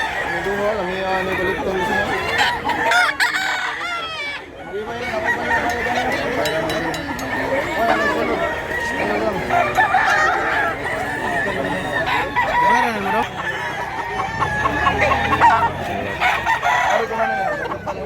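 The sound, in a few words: gamecock rooster crowing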